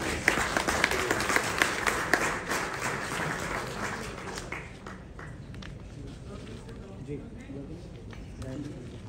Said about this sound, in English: Can we have a round of applause for this?